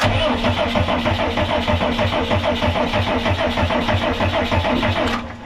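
An old Snap-on truck's Cummins diesel engine cranks over with a fast, rhythmic churning of the starter, loud and close, then stops abruptly near the end.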